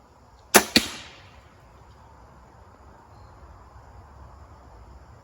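A Wicked Ridge M-370 crossbow fires with a sharp, loud snap, and a second crack follows almost at once. Quiet outdoor ambience with faint insect chirping lingers afterward.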